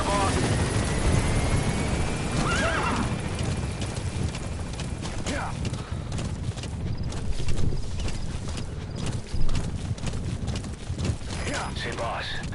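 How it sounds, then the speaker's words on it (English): Horse hooves clip-clopping in the Metal Gear Solid V video game, a steady trotting rhythm under a loud rumbling helicopter-like drone, with a voice speaking briefly. "There's my horse."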